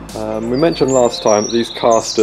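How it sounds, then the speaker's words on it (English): Sharp bird chirps and whistles ring out nearby outdoors beside a garage, mixed with someone talking over them. "sorry about that bird noise"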